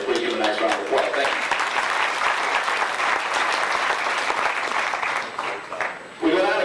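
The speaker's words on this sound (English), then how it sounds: "Please give him a nice round of applause." An audience at a 1991 racing fan club banquet applauds an award winner with steady, full indoor clapping, and a voice briefly comes in at the start and again at the end.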